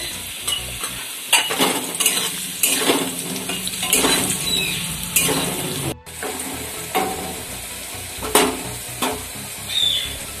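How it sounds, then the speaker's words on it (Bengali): Potato pieces fry in a pan for khichuri, a soft sizzle beneath repeated scraping and clinking of a spatula stirring against the metal, with several sharp knocks spaced through the clip. "আলুটা আমার ভাজা হয়ে গেছে"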